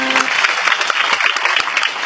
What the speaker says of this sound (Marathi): एकदा स्वतःसाठी जोरदार टाळ्या होऊ द्या